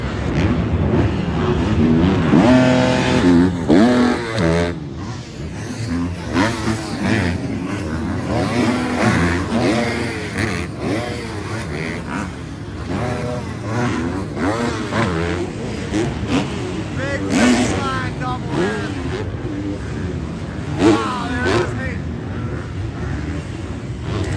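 Supercross racing motorcycles rev and roar together in a loud, continuous wall of engine noise, with pitch rising and falling as throttles blip, while faint crowd or commentary sits underneath.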